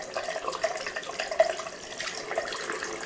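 A cold-water tap runs steadily over a Godzilla figure held beneath it, giving a close, continuous splashing rush that shifts slightly as the figure moves in the stream.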